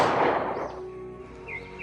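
A gunshot sound effect bursts loud and broadband at the start, then fades into a ringing tail with a couple of faint high tones after it.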